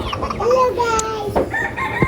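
A rooster crows once, loud and close, among broiler chickens, followed by a few short clucks against faint background noise.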